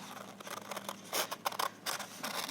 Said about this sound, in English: I'm going to cut this square off first